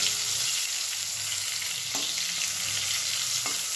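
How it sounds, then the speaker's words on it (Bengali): Steady, loud sizzling of dried chillies frying in hot oil, with a couple of soft scraping stirs. "দুটো শুকনো লঙ্কা, দুটো একটু ভাজা হয়ে যাবে"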